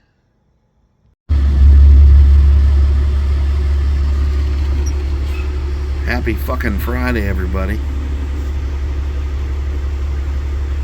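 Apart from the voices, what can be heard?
1971 Chevrolet C20 truck engine cold start and idling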